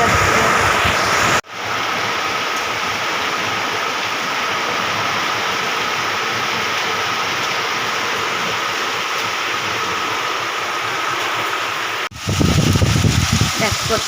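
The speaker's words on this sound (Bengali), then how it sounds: "দেখ কত হাওয়া বাতাস হচ্ছে" Strong storm wind roars as a steady, loud broadband rush heard from indoors, with a short break and voices speaking near the end.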